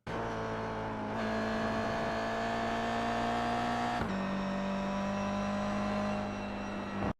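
A Toyota GR86 engine in iRacing revs steadily on the Rudskogen Motorsenter circuit, its loud, close drone stepping up in pitch through two gear changes, with no talk over it.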